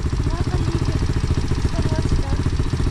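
A 125cc motorcycle engine idles nearby with a steady, pulsing low chug and light mechanical clatter throughout.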